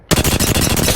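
Rapid automatic gunfire from a gun in Apex Legends, a steady burst of closely spaced shots starting abruptly and continuing loud and close throughout, with no talking.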